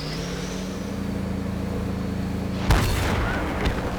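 A tank's main gun fires one heavy, booming shot about two-thirds through, over a steady engine rumble, followed by a fainter second thump in a tank battle game featuring the 430.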